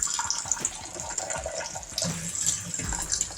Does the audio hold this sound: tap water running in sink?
yes